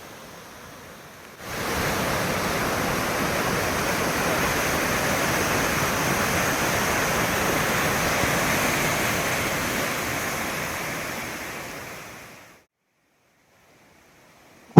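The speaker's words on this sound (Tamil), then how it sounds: "இந்த வேளாங்கண்ணி ஆலயத்துக்கு பக்கத்துல இருக்கக்கூடிய இந்த அழகான நீரோடையுடைய" A stream near the Velankanni church in Valparai rushes in a dense, even hiss of flowing water for about eleven seconds. It starts abruptly and fades away at the end.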